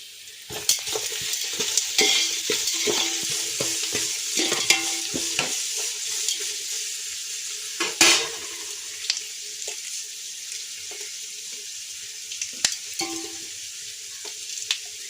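Onions sizzling and being stirred in a pan with cardamom, salt and green chillies, a close steady fry with scraping spoon strokes and occasional clinks, no voices.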